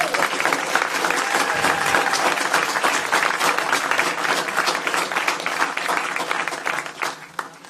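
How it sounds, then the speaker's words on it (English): Audience applause after a New Zealand citizenship oath at a Waitangi Day treaty festival, a steady, moderately loud round of clapping from a crowd that tapers off at the close. "We could have a round of applause"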